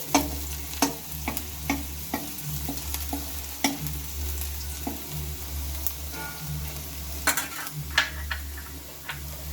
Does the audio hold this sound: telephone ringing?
no